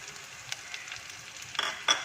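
Crushed ginger, garlic and cinnamon fry in oil for a Kerala-style chicken curry, a soft sizzle with a few stirring clicks and a louder burst of crackle near the end.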